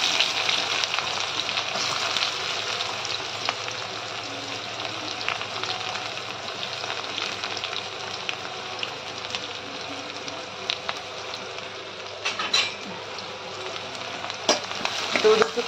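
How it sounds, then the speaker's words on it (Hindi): Onions fry in hot oil with cumin in a kadhai, giving a dense, continuous sizzle with occasional stirring scrapes throughout, close and moderately loud with no talking. "प्याज को ब्राउन होने तक मैं भून लेती हूँ"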